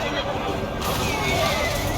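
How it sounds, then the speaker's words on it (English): Cavalry horses neigh and whinny amid a game battle in Total War: Three Kingdoms, a dense, continuous roar of combat noise with hoofbeats and voices mixed underneath throughout. "Deaths, cavalry horses dying."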